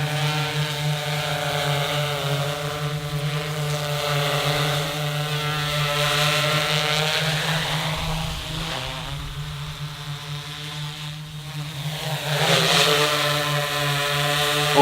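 A small drone with retractable landing gear hovers in place, giving a steady, loud, high-pitched buzzing whine of its rotors that holds nearly constant, dipping briefly and then rising again near the end.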